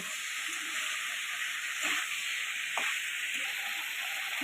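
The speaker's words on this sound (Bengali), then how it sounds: "স্বাদ মতন হলুদ গুঁড়োও দিয়ে দিচ্ছি ভালো করে নেড়ে ছেড়ে ভেজে নিচ্ছি" Ridge gourd and potato with salt and turmeric fry in a pan, giving a soft, steady hiss with a couple of faint stirring knocks, with no talk.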